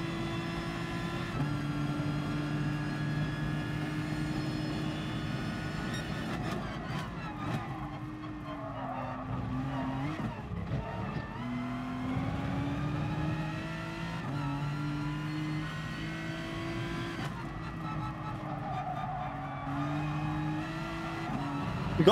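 An Aston Martin race car in GT Sport laps Monza, its engine droning steadily and climbing in pitch through repeated gear changes, loud and close throughout.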